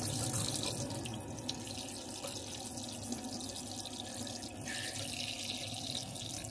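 Hot water runs from a tap in a steady, close, rushing stream that fills the whole moment with constant splashing.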